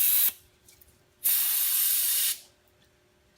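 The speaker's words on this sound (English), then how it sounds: "Spray out any excess Loctite that might have came out around the nut and went down into that hole." Two bursts of aerosol spray cleaner hiss loudly and close, each about a second long with a short gap between them, cleaning excess Loctite from around a nut on a 2015 Yamaha YZ125 suspension during a valving and free piston swap.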